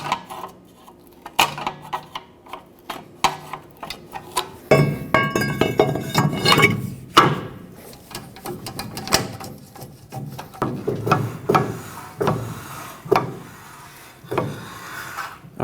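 Rear parking brake shoes on a 2011-2016 Ford F-350 lightly rubbing the rotor as it turns, a faint repeated scraping and ticking in uneven strokes with some metallic clinks, close up with no voices.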